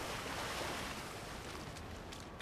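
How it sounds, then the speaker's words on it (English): A character in Saints Row The Third runs through water, producing a continuous loud wash of splashing and surf-like noise that fills the short moment without pause and fades slightly toward the end. "I'm running in the water."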